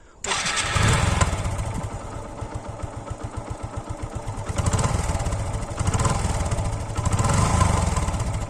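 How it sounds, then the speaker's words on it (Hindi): A stock, unmodified used motorcycle engine starts and runs close by, with a steady idle thump that rises into a few throttle blips, loud and alone. "तो चलिए पहले मैं ओरिजिनल आवाज़ दिखाता हूँ कि बाइक की ओरिजिनल आवाज़ कैसी है।"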